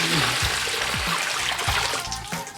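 Water poured over freshly processed Rhode Island Red chicken on a home processing day, a steady broadband splashing stream running throughout, fairly close and moderately loud, with a voice speaking briefly over it.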